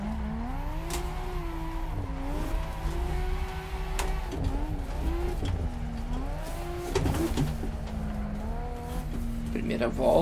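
Nissan Skyline R34 drifting through a cone course in Balneário Camboriú, its engine note rising and falling in long sweeping revs with tire noise beneath, steady and fairly close, with a voice talking over it at times.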